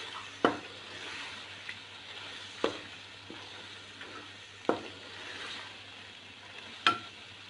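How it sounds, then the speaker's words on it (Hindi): Aloo keema frying in oil in a kadhai, a soft steady sizzle broken by a few sharp scraping clinks of a spoon stirring against the pan, close and quiet. "अब इसको बहुत ही अच्छे तरीके से भूनते हैं"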